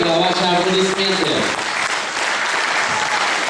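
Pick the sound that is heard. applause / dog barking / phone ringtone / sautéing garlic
applause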